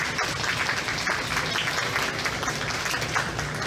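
Applause from a county fair crowd for livestock showmanship exhibitors, a steady dense patter of many hands clapping at moderate distance, continuing evenly throughout without pause.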